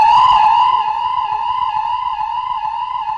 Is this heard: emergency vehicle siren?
yes